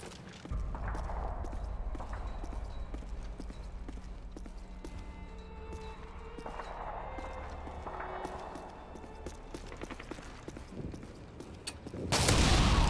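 Shotgun blasts and other gunfire in Call of Duty: Modern Warfare 2 multiplayer, with sharp repeated bangs over a busy game background and a louder burst near the end.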